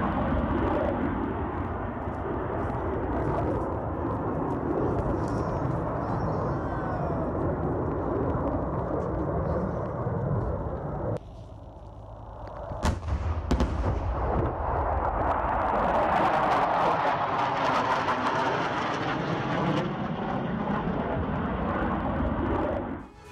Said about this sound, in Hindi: डोनबास के आसमान में रूसी सुखोई 25 की गर्जना।